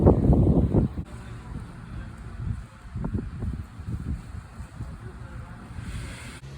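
Outdoor wind buffets the microphone in gusty low rumbles on a late-summer garden walk past hydrangeas, loudest at the start and then steady under a voice that talks throughout.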